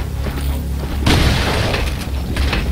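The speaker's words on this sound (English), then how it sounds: "Again, our shotgun, even from a distance, is doing some heavy damage." A shotgun blast booms loud and close in the Resident Evil 4 video game, one heavy report with a crashing tail that dies away over a few seconds of game noise.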